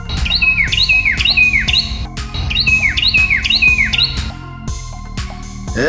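A cartoon bird squawks and screeches in sharp, rising-falling cries, several in quick bursts with short pauses, loud and close.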